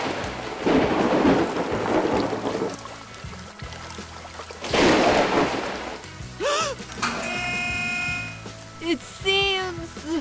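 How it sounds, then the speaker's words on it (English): Rain falls with cracks and rumbles of thunder in loud surging bursts, the second coming midway. Later stretches turn to cartoon-like whistling and tonal sound effects over the background. "Oh no! It's raining now."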